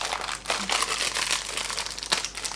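Plastic packaging around a pack of Bic Round Stick pens being opened, giving close, loud crinkling and crackling in dense, irregular bursts with no talking.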